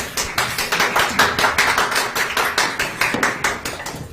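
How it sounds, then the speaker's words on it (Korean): An audience at a People Power Party nomination committee briefing claps in quick unison, the sharp claps evenly spaced and fairly loud for several seconds, with no talk over them. "박수 좀 크게 쳐주십시오."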